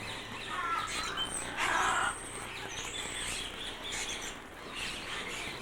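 A flock of scarlet ibis calls at a bird enclosure in Cape Town, with a steady chatter of squeaky, chirping calls and one louder burst near the start.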